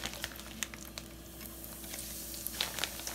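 A second batch of seasoned fish sizzling and frying in hot oil, a steady close crackle with small pops and spatters and no talking.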